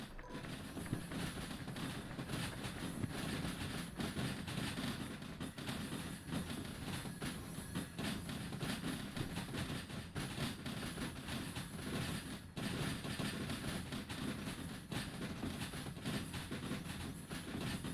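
Trains rolling past in the Derail Valley railway simulator, a steady loud rumble of rail cars with clickety-clack wheel noise that continues without a break and no talking.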